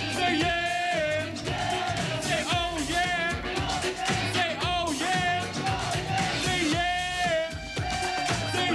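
A concert crowd at a 1992 hip-hop show yells "yeah" back at the rapper in a loud, sustained roar over steady, pounding music.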